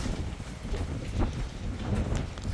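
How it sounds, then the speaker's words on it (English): Strong wind blows outdoors during a dust storm, buffeting the microphone as dense, loud, continuous rushing noise with gusty swells and no clear talking. "Wind"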